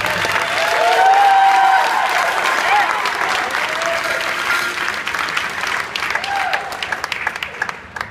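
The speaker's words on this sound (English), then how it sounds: "applaud Timmy" Crowd applause at a high school sports champions celebration, loud sustained clapping with some cheering that slowly thins toward the end, voices faintly audible underneath.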